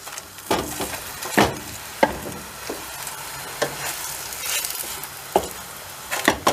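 Gözleme flatbread frying in an oiled pan gives off a constant crackling sizzle, broken by several sharp scraping and tapping sounds from a utensil against the pan.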